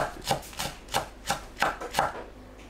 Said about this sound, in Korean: 청양고추를 어슷 썰어주세요.